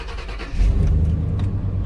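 A surplus Chevrolet Suburban truck engine cranks briefly, then catches and starts, settling into a loud, steady close idle with a low rumble and no talk.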